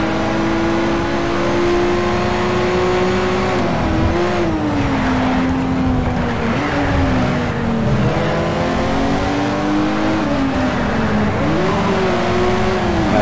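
A racing car in Need for Speed: Shift drones loudly and continuously, its engine pitch climbing and dropping repeatedly through gear changes and throttle lifts.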